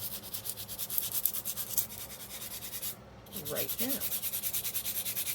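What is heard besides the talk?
rubbing a stone on sandpaper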